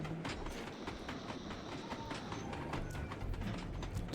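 A train in the video game Sly 2: Band of Thieves rumbles past with a steady roar and rhythmic clattering of wheels on track, continuous throughout.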